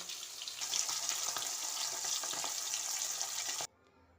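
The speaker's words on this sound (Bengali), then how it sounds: "এবার এগুলো উল্টে দিয়ে অপর পিঠটাও ভেজে নেব।" Pabda fish, flipped to cook the second side, sizzle and spit steadily in hot oil for several seconds, a loud, dense, close hiss that stops abruptly, leaving near silence, with no talking.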